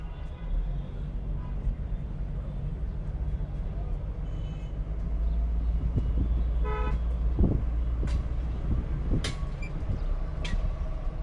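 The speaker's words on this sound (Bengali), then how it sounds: "হর্ন হর্ন, এটা একটা মাইনাস মার্কিং" Inside a car on a city driving test, two short horn honks sound over a low, steady engine and road hum, with a voice speaking in the cabin.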